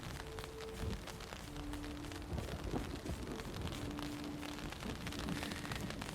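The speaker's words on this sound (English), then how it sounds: "get out of the rain. It's starting to get really heavy now." Heavy rain pours in a dense, steady hiss around a virtual Hogwarts setting, with low rumbling undertones suggesting thunder and faint tonal sounds drifting through.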